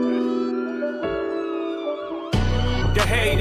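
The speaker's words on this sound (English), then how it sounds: "Gunshots and sirens" Siren sound effects in a hip-hop track played on a radio show: wailing, rising and falling siren tones sweep over the music, and a heavy beat with punchy low hits comes in partway through. There is no talking.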